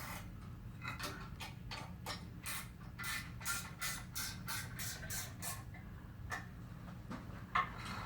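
Bolts on a newly installed mechanical seal are snugged up with a ratchet, producing a series of sharp, close clicks in quick runs over a low steady background hum, ending with a single louder knock.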